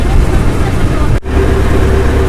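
A loud, steady boat engine drone close by on a canal near a floating market in Thailand, continuous throughout with a brief dip in the middle.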